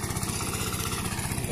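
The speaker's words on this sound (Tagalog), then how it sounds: "Magbukat yung makina." A farm tractor engine runs steadily in a field, a close, loud, even throbbing putter that continues without change throughout.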